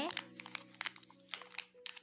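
A plastic surprise packet from a Shimmer & Shine Teenieies toy crinkles and crackles in short bursts as it is torn open, close up, over a steady tonal background with a voice present.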